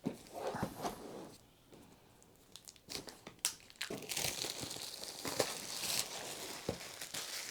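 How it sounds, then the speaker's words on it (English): Plastic wrap is peeled and torn off a boxed power supply, bursts of close crinkling and crackling broken by brief quiet pauses and soft handling knocks. "So let's get the plastic wrap off."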